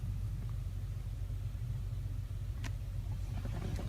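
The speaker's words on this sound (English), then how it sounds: "Now let's jump into the vehicle, start it up and see how it sounds." A Mercedes-Benz car engine idles after starting, a low steady rumble heard from inside the vehicle, with a few faint clicks near the end.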